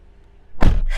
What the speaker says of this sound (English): you close the door like this.